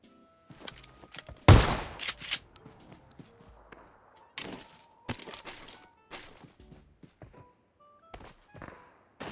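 Gunfire in PUBG Mobile, several sharp loud shots and a short burst among scattered thuds and footsteps, with faint talk from players mixed in.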